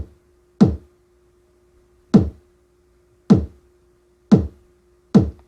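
GarageBand drum sounds played back on an iPad: five punchy, isolated drum hits spaced about a second apart, each a sharp attack with a short decay over a faint steady hum.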